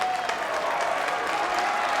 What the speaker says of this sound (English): And listen to this crowd come alive